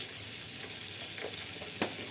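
Steady crackling sizzle of cumin seeds frying in hot fat for a dal tadka, with a few sharper pops and a light stir, close and continuous.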